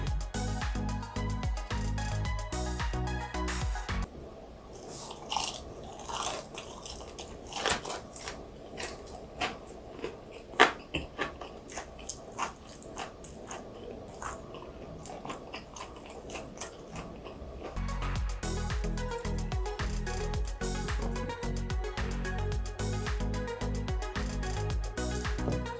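Crunchy bites of spicy, crispy Korean fried chicken made with peppers, a run of sharp irregular crackles and chews heard up close and alone, set between louder music sections.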